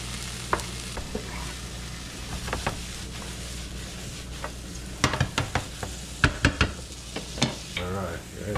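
A pan of veal and mushrooms frying in butter gives a steady sizzle, broken by sharp scraping and clacking stirs that bunch up toward the end.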